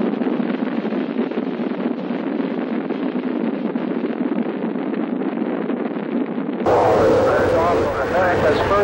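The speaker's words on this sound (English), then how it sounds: "We've gone for main engine start." Space shuttle main engines ignite at launch as a loud, continuous roar that stays muffled and narrow in band at first, then suddenly opens into a much fuller, brighter, crackling rumble near the end, with a voice talking over it.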